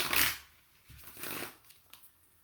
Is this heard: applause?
no